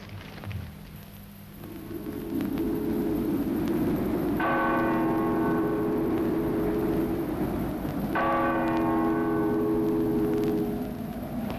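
A church bell rings in strong, sustained strokes, its harmonic tones swelling twice and hanging over a steady wash of background noise, fairly loud and close, with no voices.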